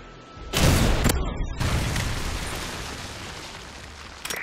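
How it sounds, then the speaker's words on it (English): A Predator missile strike in a video game, heard as a loud, close boom that rolls into a long rumbling decay, with a smaller burst near the end. "Friendly Predator missile inbound."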